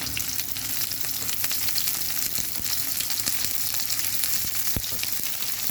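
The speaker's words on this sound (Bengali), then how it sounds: "এখন কড়াইতে পেঁয়াজ দিয়ে একটু পেঁয়াজগুলোকে নরম করে ভেজে নিলাম।" Onions and vegetables frying in a wok, a continuous crackling sizzle with occasional sharper pops and stirring clatter, close and steady with no talk.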